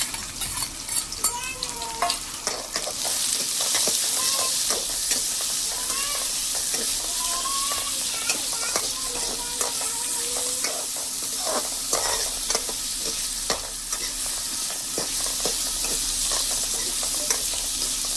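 Onions sizzle and fry in a pan for a Gujarati recipe, a steady bright hiss broken by repeated scraping strokes of a stirring spoon, close and continuous.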